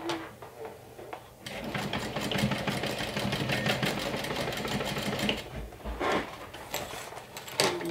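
A sewing machine stitches a bag lining to a zipper, running in a steady, close, rapid mechanical whir for several seconds. It slows and pauses briefly near the end.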